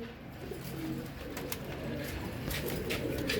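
Imam Deen and Kamangar pigeons coo softly in a loft, low throaty burbling calls repeating over a few seconds, close by with light rustling and no talk.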